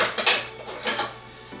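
Deep pan being handled while cooking onion, with two or three sharp metallic clanks and a scrape of cookware, close and clear, with no talking.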